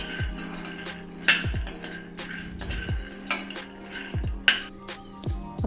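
Groundnuts being sautéed in a metal pan for kadalai chutney, with a ladle scraping and knocking against the pan in a steady rhythm of sharp clinks over a faint low hum, close by and with no talking.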